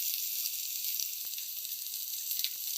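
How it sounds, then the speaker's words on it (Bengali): Chicken pieces for butter garlic chicken sizzle steadily on a tawa, a dense continuous hiss with a few faint utensil ticks, close and even in level. "সমস্ত চিকেনের পিসগুলিকে না উল্টে পাল্টে ভালোভাবে ভেজে নিতে হবে"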